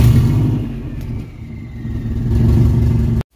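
A Subaru BRAT WRX engine runs while warming up to temperature, a loud steady low rumble that dips briefly then swells again before stopping abruptly.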